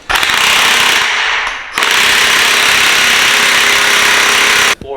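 A loud, heavy-duty power tool, likely an impact wrench, drives a flywheel nut to 400 foot-pounds on a rotary engine, hammering steadily for about five seconds with one short break near the start.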